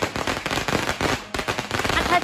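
A huge string of two million firecrackers bursts in a dense, continuous crackling barrage, loud and close, with a brief dip midway before the rapid popping resumes.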